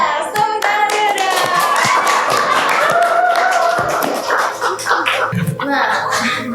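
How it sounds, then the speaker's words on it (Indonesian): A small group claps hands during a podcast introduction, a brisk close patter of claps with scattered taps, mixed with overlapping voices and laughter. "Tepuk tangan dulu."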